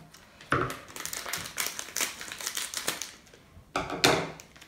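Crinkly plastic packaging of a Japanese dessert kit being torn open, with several loud bursts of crackling and crumpling close by, separated by quieter rustling.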